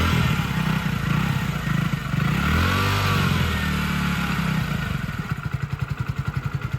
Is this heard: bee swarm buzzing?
no